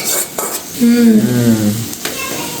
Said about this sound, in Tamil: முட்டையை ஊற்றுங்க சைட்டை ஊற்றி போடுவோம்